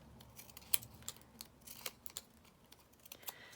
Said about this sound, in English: whilst I've got my scissors here, I'll just do it with any of the others that I'm also not loving